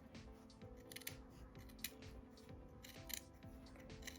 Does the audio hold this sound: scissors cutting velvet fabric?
yes